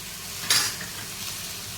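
Cashews and tomatoes sautéing with golden-browned onions in a pan, a faint steady sizzle with one brief scrape of a spatula.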